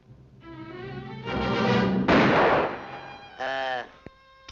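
A cartoon gunshot from a 1954 Looney Tunes short cracks out as one loud, sharp blast between excited, shouting cartoon voices, followed by a short thud.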